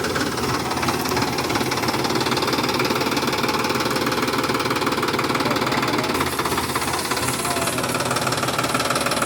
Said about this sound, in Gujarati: જો કામ ચાલુ છે ટ્રેક્ટરમાં.